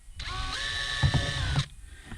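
A power drill whirs briefly at a steady high pitch while boring a hole during a navigation and Helix 5 fishfinder install, close and clear, lasting about a second and a half.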